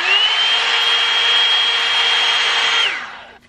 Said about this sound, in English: So this is what the Revlon blow dryer sounds like on high.